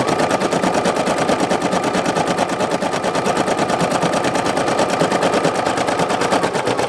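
A single-needle embroidery machine stitches a black thread border over a patchwork design, a loud, rapid and steady mechanical chatter of needle strokes running without pause throughout.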